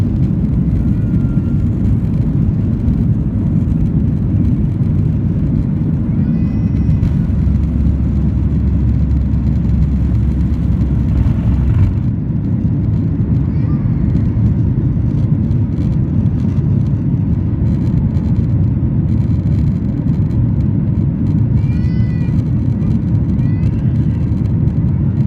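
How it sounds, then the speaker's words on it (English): An airplane takes off from Sylhet airport in Bangladesh, its engine roar a steady, loud rumble that fills the whole stretch without a break. "I did manage to record the plane taking off from Sylhet"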